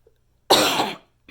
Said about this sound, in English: right now I have a really bad cough